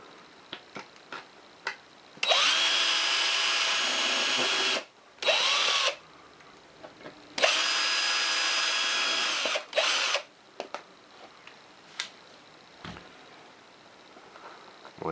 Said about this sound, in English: is go ahead and drill down through.